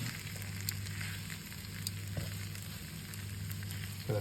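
Red rice stick noodles stir-fried with kimchi mushrooms and vegetables sizzle steadily in a hot pan, a continuous close frying hiss with light scraping stirs and no talking.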